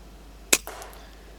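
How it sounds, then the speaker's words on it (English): A single sharp, snappy air rifle pellet shot at a rat just under 20 yards away, followed by a brief dull thud of impact, then quiet outdoor background. "The sound of the shot doesn't even spook the calves."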